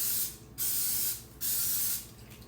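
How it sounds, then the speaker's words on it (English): An aerosol can sprays onto food in three separate hissing bursts, each about half a second long, close and steady, with short pauses between them. "So I'm going to go on and spray all 4."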